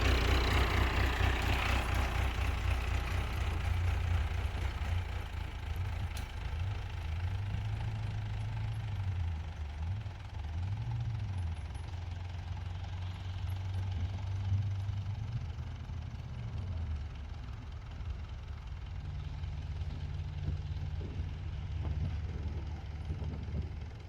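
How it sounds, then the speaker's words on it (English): Diesel locomotive at a steam and machinery museum, idling with a deep low throbbing rumble that rises and falls slightly in pitch over a long stretch, steady and moderately distant, without talk. "more switching with the diesel engine running ahead of the switch"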